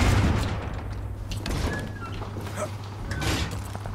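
Scattered gunfire in Far Cry 6 as a building top is shot at, several faint bursts under a steady low game hum and ambient noise.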